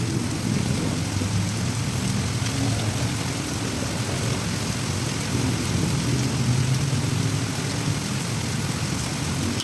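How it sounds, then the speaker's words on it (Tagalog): Steady, dense rain falls outdoors as a continuous hiss with a low rumble underneath, unbroken throughout with no voices. "Maulan"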